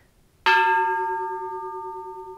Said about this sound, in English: This sort of bell, it's got a nice, deep